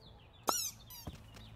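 A rubber duck squeaks twice in the PC game Pool Cleaning Simulator: two short, bright squeaks about half a second apart, the first louder, over a quiet game background.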